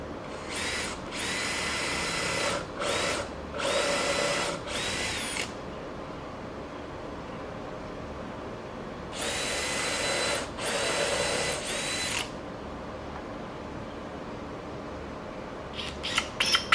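A power drill bores into wood while building a miter saw table, whining in several short bursts of a second or two each, separated by pauses with a steady background hum.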